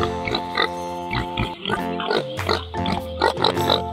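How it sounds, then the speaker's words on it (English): Several farm pigs oink and grunt in quick, playful bursts over a bouncy cartoon-style music track, fairly close and lively. "The pigs did some funny tricks and oinked cheerful songs."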